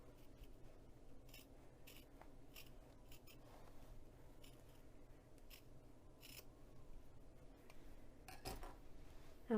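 Scissors trim fabric at the sides, giving a few faint, scattered snips and light rubbing sounds over a quiet low hum, with no talking.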